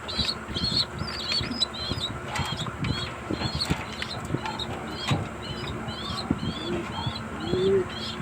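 Pigeons in a breeder loft, including two-month-old stock birds, coo in repeated soft, rolling calls close by, with occasional wing flaps and chirps over a low background rumble.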